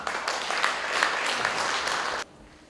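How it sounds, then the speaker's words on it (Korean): Audience applause at a church missionary prayer conference in Korea, welcoming a missionary speaker to the stage: steady, dense clapping from a sizable crowd lasting about two seconds, then cutting off to quiet room tone. "박수로 맞이해주시면 감사하겠습니다"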